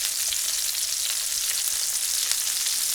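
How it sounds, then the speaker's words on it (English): Meatloaf kebabs sizzle steadily on a grill, a continuous close hiss and crackle of fat with no talk over it. "As round 2 grills to perfection"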